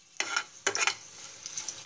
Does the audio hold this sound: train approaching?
no